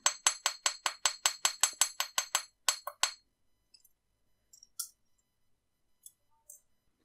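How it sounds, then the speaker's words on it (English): A small riveting hammer taps metal wire rapidly, about a dozen crisp, ringing strikes in steady rhythm, then a few scattered light clinks in near silence. "if you've got a small hammer like this riveting hammer"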